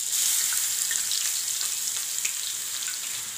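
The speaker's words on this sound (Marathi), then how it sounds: "तेल टाकलंय कढईमध्ये, तर आपल्याला पहिले जिरे टाकायचे त्याच्यात। जिरे टाकले मी, त्याच्यानंतर आपल्याला कढीपत्ता टाकायचा आहे" Curry leaves and garlic paste fry in hot oil in a wok, giving a steady, close, bright sizzle with small spatters and crackles throughout, without any talk.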